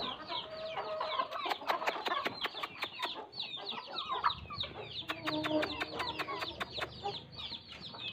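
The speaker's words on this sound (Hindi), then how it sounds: "मुर्गियों के लिए जो है ना वो 13 नंबर फीड लेकर आया हूँ, तो ये जो फीड है मैं इनको डाल लेता हूँ।" Chickens cluck and squawk busily at close range while being given No. 13 poultry feed on a farm, with sharp repeated calls in irregular bursts and a little background activity.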